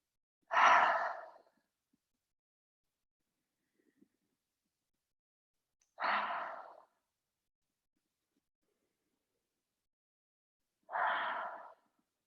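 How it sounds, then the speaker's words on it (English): Three deep, breathy exhales through the mouth during a yoga flow cool-down, each a close, airy whoosh spaced about five seconds apart with silence between. "Take 3 more big inhales and an exhale"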